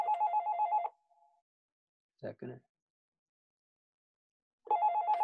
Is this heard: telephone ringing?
yes